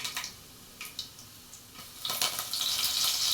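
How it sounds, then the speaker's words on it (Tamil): Curry leaves spluttering in hot oil with mustard seeds and urad dal, with a few crisp pops at first, then a bright crackling hiss that swells and holds, close by, with no one talking. "கருவேப்பிலை நல்லா பொரிஞ்சு வந்துருச்சு."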